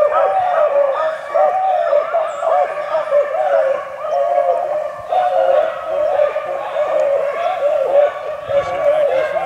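Several hunting dogs bay and howl continuously in overlapping, drawn-out cries, loud and fairly close, with no pause across the stretch.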